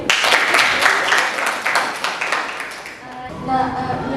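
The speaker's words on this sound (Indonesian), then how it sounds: "Keren ya, boleh tepuk tangan gak nih?" An audience claps together in a dense burst of applause for about three seconds, then it fades into a voice speaking.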